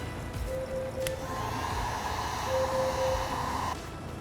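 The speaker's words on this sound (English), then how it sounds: "I'll try to do a little smoothing with it with the heat gun." A heat gun blows steadily while smoothing lumpy spray foam with a wooden tool, a continuous airy whoosh with a faint high whine that holds throughout and fades at the end.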